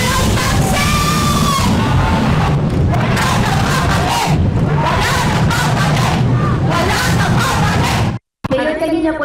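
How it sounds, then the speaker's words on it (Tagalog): A large crowd of supporters at a political rally in Heroes Park shouts and chants loudly and continuously, a dense roar of many voices that cuts out briefly near the end. "Yan po ay sigaw naman ng ating mga sumusuporta sa amin"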